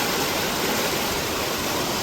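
After heavy rain, swollen floodwater surges near Patoli bridge in Furus village, Khed, producing a constant, loud, hissing roar of fast water with no other sound over it.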